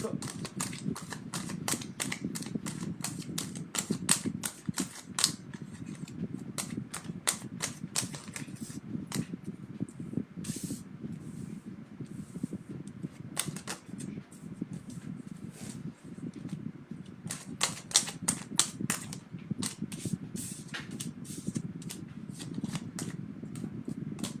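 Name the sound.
shuffling and cutting a deck of cards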